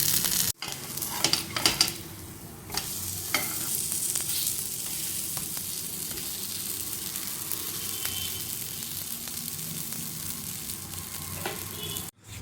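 Chapati roll frying in oil on a hot pan, a steady close sizzle running nearly the whole time with a few brief clatters and stirring scrapes near the start.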